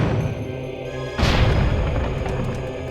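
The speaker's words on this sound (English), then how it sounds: "his sword can destroy these pillars" In The Legend of Zelda: The Wind Waker HD, a Silver Darknut's heavy sword smashes a stone pillar, making one abrupt, crunching boom over game music, with a decaying rumble afterward.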